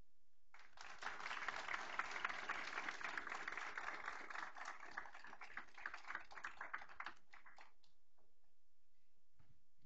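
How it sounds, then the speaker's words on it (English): At a school board meeting, a modest audience gives applause for AP scholars, a faint patter of clapping that builds, holds for several seconds and thins out to silence. "Let's give our AP scholars with distinctions another applause."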